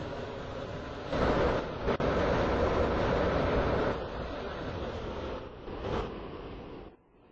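A video game train rumbles along steadily with rolling rail noise and periodic surges, then fades out abruptly at the end.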